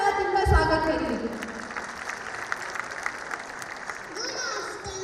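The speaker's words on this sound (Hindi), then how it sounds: "तालियों के साथ इनका स्वागत करिए" At a school annual function, an audience claps to welcome young first-grade dancers to the stage, with a voice over a sound system talking through much of the applause.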